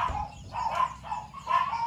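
A dog barks a few times at a rural house near a mangrove area in Guinayangan, Quezon, the short barks spaced out and somewhat distant.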